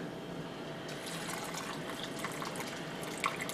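Pork-and-beans liquid being poured into a canning jar, a steady, soft trickle and gurgle running the whole time, fairly quiet and close, with a few small splashy bits near the end.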